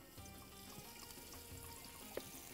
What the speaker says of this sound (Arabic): الحين بحط عليه الزيت بحمر الزيت عليه بصب الزيت